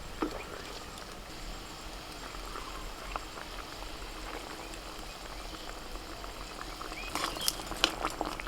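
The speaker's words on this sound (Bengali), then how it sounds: "গ্রেভিটা ফুটছে। এবার একে একে তেলাপিয়া মাছগুলো দিয়ে দিচ্ছি।" A fish gravy with turmeric and salt bubbles steadily in a pan as tilapia pieces are added, a dense low simmering crackle running throughout with a few sharper splashes and clicks toward the end.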